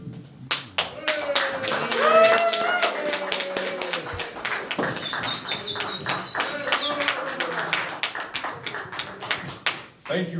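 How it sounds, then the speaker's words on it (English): Crowd claps for a magician taking the stage. The crisp, rapid hand claps run for about ten seconds while someone talks over them, and the clapping thins toward the end. "Thank you for that wonderful round of applause."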